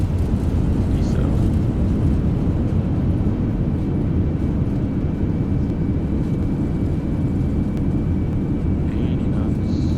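Thrust reversers on an Airbus A350 landing in Microsoft Flight Simulator 2024 give a loud, continuous low roar that holds steady throughout, with cockpit callouts spoken over it.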